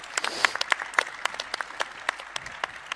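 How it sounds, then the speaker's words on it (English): Small audience at a Cardano Summit DeFi panel claps sparsely, with distinct individual claps standing out over a thin, fading patter of a few hands nearby. "Another round of applause."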